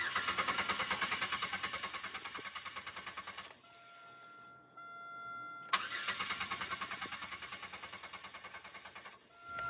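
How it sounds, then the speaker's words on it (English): A car with no gas cranks repeatedly in rapid rhythmic bursts without catching, pauses with a chime ringing, then cranks again for several more seconds, close and loud with no talking. "And if I try and start it"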